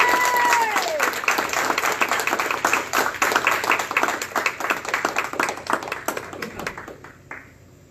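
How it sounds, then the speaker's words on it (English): An audience breaks into dense, loud applause to welcome a speaker, and the clapping thins and fades out toward the end. "Help me give a rounding of applause"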